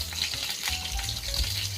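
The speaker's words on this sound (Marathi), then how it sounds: "त्याच्यात आता तेल टाकायचं कढीपत्ता आणि मिरची" Curry leaves and green chillies sizzle and crackle in hot oil in a heated kadhai, a steady close frying hiss for sabudana khichdi, with no talk.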